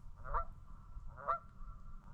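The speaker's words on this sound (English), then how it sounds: "All these big gooses. Gooses and geeses. They're making all kinds of noise." Two loud honks from nearby geese, about a second apart, stand out over low background rumble outdoors.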